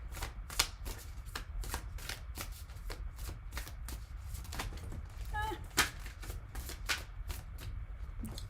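Oracle cards are shuffled by hand in a quick series of crisp riffles and slaps, close and fairly loud, with a brief chime-like tone partway through.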